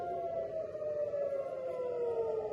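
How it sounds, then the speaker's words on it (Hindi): A civil defense air raid siren wails over Tel Aviv during a missile attack, one long sustained tone sliding slowly downward in pitch, loud and steady with its overtones ringing clearly and no talk. "आप सायरन सुन सकते हैं।"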